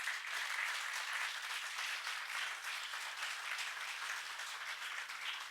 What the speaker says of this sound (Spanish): Y le dan un aplauso a Jesús por eso